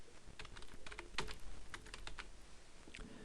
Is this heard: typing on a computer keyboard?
yes